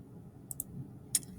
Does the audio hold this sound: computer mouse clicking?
yes